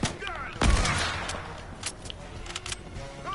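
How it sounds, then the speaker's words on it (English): Video game gunfire from a sniper rifle or shotgun, with one strong close shot early on and lighter sharp reports afterwards over a noisy background. "I'm gonna use the sniper to eliminate henchmen, and I'm gonna use the shotgun for actually fighting people."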